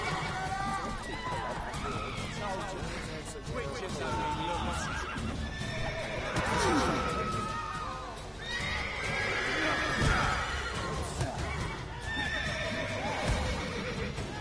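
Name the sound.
horse neighing in video game The Witcher 3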